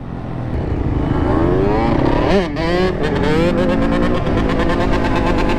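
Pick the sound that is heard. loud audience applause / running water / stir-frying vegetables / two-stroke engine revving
two-stroke engine revving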